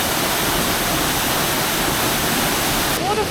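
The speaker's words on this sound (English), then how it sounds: "Waterfall number 4." A waterfall near Mindo roars steadily and loudly close by, a dense continuous rush of falling water with no pauses and no talking.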